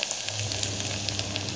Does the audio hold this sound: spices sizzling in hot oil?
yes